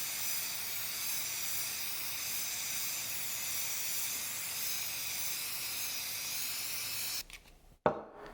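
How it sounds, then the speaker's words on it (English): Black chalk spray paint hisses steadily onto a clear acrylic sheet in one long, loud, continuous burst, cutting off abruptly near the end, followed by a brief clatter. "we're going to paint one side of our acrylic using this black chalk spray paint"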